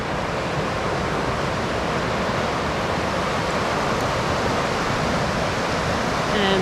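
A river flows beside the Chirk Aqueduct, a steady broadband rush of water filling the scene at constant loudness with no break.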